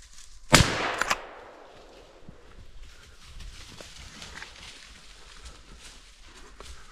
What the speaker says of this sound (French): Je décide de tirer ce joli brocard